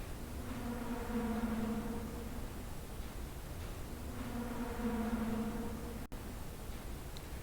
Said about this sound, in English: I swear to God, this is a bug.